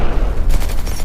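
Explosions and rapid gunfire effects from a GPS laser tag smartphone game, a dense burst of booms and firing that swells in the second half and fills the whole clip with no talk.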